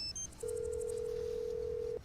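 Phone tones from a Nancy Drew mystery game, Trail of the Twister: a few short high dialing beeps followed by a long, steady single tone held for about a second and a half.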